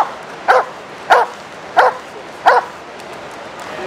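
A police K9 dog barks four times at even intervals, sharp close woofs standing out against a quiet outdoor background.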